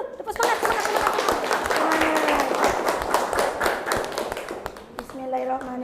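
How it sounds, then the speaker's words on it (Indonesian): Class of students clapping hands together in a classroom, a rapid, busy patter of many claps close by with voices chattering over it, ending as a single voice begins speaking. "Tepuk tangan dulu, tepuk semangat."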